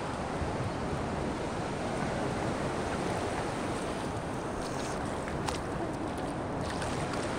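Sea waves at Shirgaon beach in Palghar, a continuous broad wash of surf rolling steadily and fairly loud throughout, with no clear voices.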